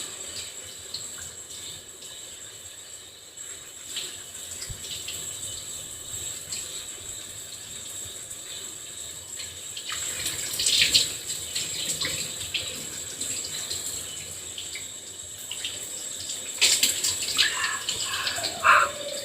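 Tap water runs steadily while dye is rinsed out of long-grown locs, a continuous close splashing hiss that swells louder in a few places as the hair is worked under the stream.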